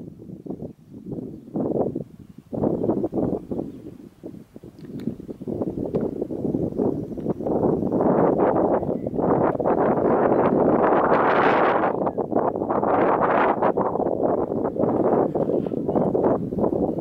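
Strong wind buffets a camera microphone outdoors at a racing event, starting in gusty bursts and building into a loud, continuous roaring rumble that dominates the recording.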